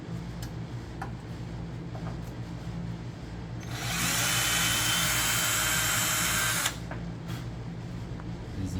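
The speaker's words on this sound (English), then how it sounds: "so I had to resort to the OG Craftsman guy, right angle drill bit" A Craftsman right angle drill whirs steadily at high speed for about three seconds during work on a 2005 Toyota Tundra A750E transmission, standing out loudly over quiet background clicks and ticks.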